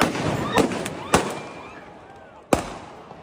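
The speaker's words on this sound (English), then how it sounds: "Wow, they're throwing fireworks and mortars. They just threw fireworks at officers." Fireworks and mortars thrown by protesters at police go off in several sharp loud bangs amid a crowded street scene, with crackling bursts and a noisy background of voices.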